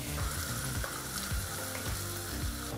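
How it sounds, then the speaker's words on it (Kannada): Chopped onion with other ingredients fries on a medium flame, giving a steady, close sizzle with occasional soft stirring scrapes throughout, and no voices. "ಈ ಎಲ್ಲ ಪದಾರ್ಥನೂ ಮೀಡಿಯಂ ಫ್ಲೇಮ್ನಲ್ಲೇ 3-4 ನಿಮಿಷ ಫ್ರೈ ಮಾಡ್ಕೋಬೇಕು."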